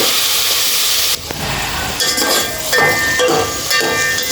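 Vegetable pieces for veg dum biryani frying in a pan, a steady loud sizzle and hiss that drops briefly and returns with stirring scrapes.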